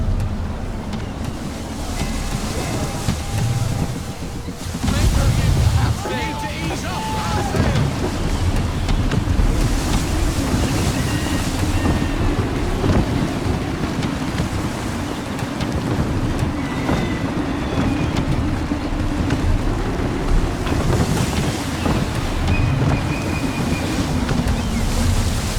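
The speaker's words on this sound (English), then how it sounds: "Full sail. Wind looks to be shifting. Stay alert, Connor. Gusty winds can be difficult to manage" A sailing ship in Assassin's Creed 3 pushes through waves under gusty wind, with steady roaring wind and surf, periodic wave crashes, and faint creaks and calls over the sea.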